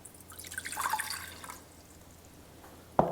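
Water poured into a pan to start a syrup for pastéis de nata: a brief, close splashing pour that fades out, then a single sharp clink near the end, in a quiet kitchen.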